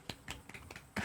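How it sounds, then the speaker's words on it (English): Soft golf claps in a disc golf commentary booth, about five quiet, sharp taps spaced evenly across a second, close and faint, ending in a slightly louder burst. "Golf claps in the booth."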